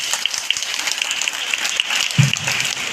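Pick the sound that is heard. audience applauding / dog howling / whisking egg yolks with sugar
audience applauding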